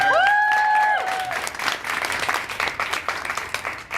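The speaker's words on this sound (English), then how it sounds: "So a round of applause for them." An audience applauds performers at an evening theatre event, a short burst of tonal sound at the start giving way to steady, dense clapping that holds fairly loud throughout.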